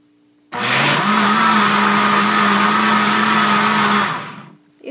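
An electric mixer beats cornmeal cake batter for about three and a half seconds, a loud, steady whirring motor drone that starts abruptly and winds down at the end.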